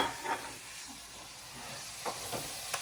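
Onions frying in a pan for a homemade pizza, a steady broadband sizzle with a few brief sharper crackles or stirring scrapes near the end, close and moderately loud, no voices.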